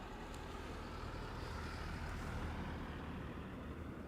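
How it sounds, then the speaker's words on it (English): A police car on patrol rumbles past at moderate distance, a broad steady roadway roar with no voices. "a car passing by just now."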